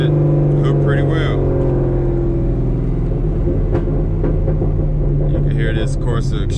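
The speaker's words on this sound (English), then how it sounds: "This Corsa Extreme, it just sounds so good, guys. I love this exhaust so much." A C5 Corvette's Corsa Extreme exhaust rumbles loudly and steadily as the engine pulls hard in second gear, with a voice talking over it.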